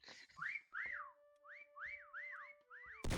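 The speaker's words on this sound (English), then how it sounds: "Someone just whistled an entire" Someone whistling a tune in the game Meccha Chameleon: a run of clear, sliding whistled notes in a bouncy rhythm, ending in a sudden loud burst of noise.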